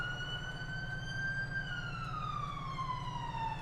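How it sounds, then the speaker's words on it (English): An ambulance siren in the FiveM GTA game wails one steady tone that slowly sweeps down in pitch. It sounds fairly loud and continuous over a low engine rumble, with no talking. "I hear that damn ambulance."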